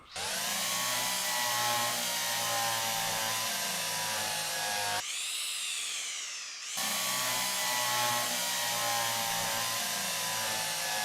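A drill runs in the train game Derail Valley, a loud steady mechanical whirr with a grinding, rubbing texture that holds for about five seconds, stops briefly, then resumes at the same level.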